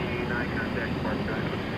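At DFW airport, a cargo plane gives off a steady, fairly loud engine drone under the night sky, with a faint whine riding on the continuous rumble.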